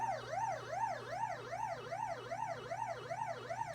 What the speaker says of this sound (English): the siren sounds right to me now too